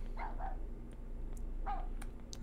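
A small dog in the game Rule of Rose yelps a few short, high barks at a distance: two quick ones, a pause, then another, over a quiet background hum.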